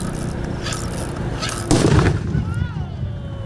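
A controlled detonation of an explosive device: a sharp, heavy blast bursts out after a steady background hum, followed by a rumbling decay and a faint whistling tone as it fades.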